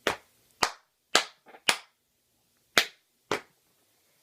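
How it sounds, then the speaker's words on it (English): Sharp percussive action sounds from an original Bop It toy: six or seven crisp, clap-like hits spaced in an irregular rhythm, close and clean, with a couple of softer taps between them and no voices. "you need all the Bop It original sounds for this"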